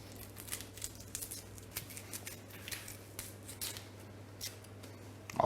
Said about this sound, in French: Déjà, on va éplucher l'oignon.